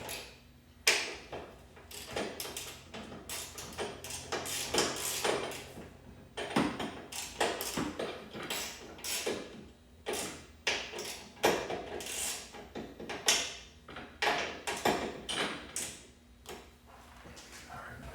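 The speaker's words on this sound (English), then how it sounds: "Just gonna get them started with my ratchet" Ratchet threading strut mount nuts on a 1997 BMW E36 M3, a run of quick close clicks and short bursts of metallic ticking with brief pauses between strokes, some light handling noise.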